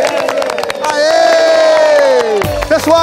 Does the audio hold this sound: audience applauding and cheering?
yes